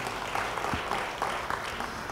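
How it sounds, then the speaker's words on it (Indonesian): A church congregation gives a speaker a round of applause, a soft, steady patter of many hands clapping at a distance that carries through the whole moment. "Beri tepuk tangan bagi dia."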